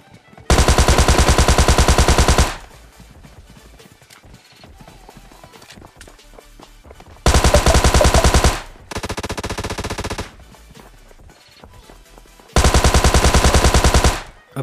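In PUBG Mobile Lite gameplay, three loud bursts of rapid gunfire, one lasting about two seconds and another about three, alternate with quieter stretches of footsteps and movement.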